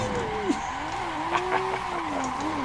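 Drifting car in the Assetto Corsa sim racing game, with a steady engine drone and wavering tire squeal as the car slides between K barriers, with skid bursts rising near the middle.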